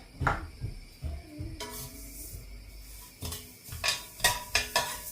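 Nigella seeds dry-roasting in a metal pan, stirred with a spoon that clinks and scrapes against the pan in repeated sharp bursts, close and fairly loud, with a faint dry rustle of seeds between strokes.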